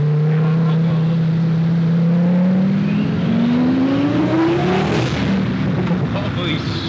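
A Porsche 911 Turbo engine revs loud and close, its pitch climbing smoothly toward 4000 RPM before easing off, with a continuous throaty drone throughout.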